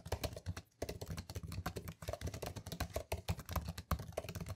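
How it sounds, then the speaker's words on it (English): Rapid typing on an M1 MacBook Air laptop keyboard, close and dense, with quick irregular key clicks and a brief pause early on. "The keyboard is very tactile, the travel distance is decent,"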